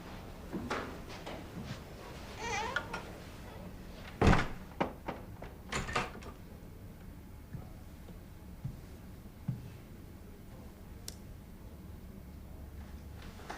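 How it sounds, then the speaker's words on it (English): An office door swings shut with a single solid thud, preceded by a few soft footsteps and knocks, then a quiet room tone follows. "Close the door."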